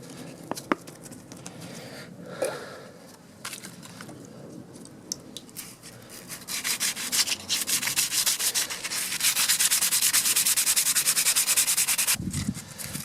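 Sandpaper of 240 grit rubs back and forth over a plastic Suzuki Bandit motorcycle dash light lens, a steady close scratching that grows louder and denser midway before a brief pause.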